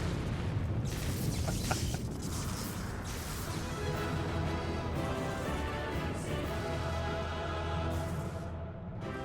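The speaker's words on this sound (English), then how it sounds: "Of course, don't look at the explosion." Explosions and crashing blasts in the video game Final Fantasy XIV during a boss fight, a dense continuous roar of booms and debris with no pauses, loud and up close.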